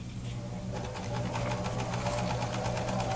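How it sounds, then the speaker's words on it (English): A Simplicity Easy Lock serger runs steadily through fabric, its fast even stitching hum holding at a constant close level for the whole stretch with no talk over it. "Lower the foot and sew about an inch, then sew off the edge and cut the tail chain"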